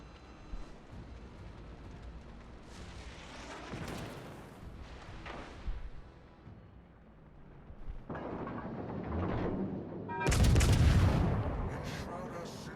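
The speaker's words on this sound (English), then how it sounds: "This asshole's shooting HE at me, and it's getting on my fucking nerves." Heavy naval gunfire from battleship HE shells in the World of Warships Legends game: booming blasts and explosions that swell and fade in waves, the loudest salvo near the end, mixed with game effects.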